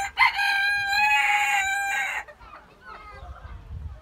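A rooster crows once, loud and close, a strained, wavering call lasting about two seconds, followed by quiet low rustling.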